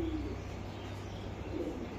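A BRPFC club racing pigeon of a named breeder's bloodline coos softly in two low murmurs, one at the start and one near the end, over a steady low hum.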